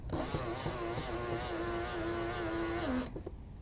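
Electric motor on a three-wheeled electric bicycle spinning a single tyre, a steady close whine holding pitch for about three seconds before winding down and cutting off.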